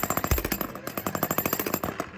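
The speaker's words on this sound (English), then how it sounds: "You're supposed to run the jackhammer, not let the jackhammer run you." A jackhammer breaks concrete during a home renovation in Tennessee, hammering in a loud, rapid, steady rhythm close by for the whole stretch.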